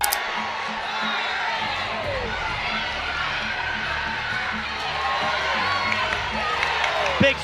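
A fight crowd roars and cheers in a noisy arena after a body kick lands, with a busy wash of voices and shouts that swells slightly toward the end.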